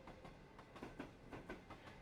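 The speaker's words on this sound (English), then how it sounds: "Oh no, there goes the train." A train pulls away in the innkeeping video game The Hidden Art of Innkeeping, with a quiet, rhythmic clickety-clack of wheels over rail joints rolling along at a distance, with no speech.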